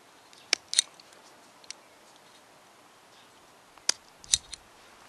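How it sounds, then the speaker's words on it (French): Pruning shears snip small branches for grafting, giving a few sharp isolated cuts spaced irregularly, quiet and close, with no talk. "On va couper déjà toutes les petites branches."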